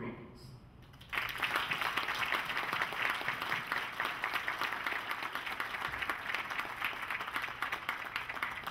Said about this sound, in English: put our hands together to give ourselves a big, and I mean a real big round of applause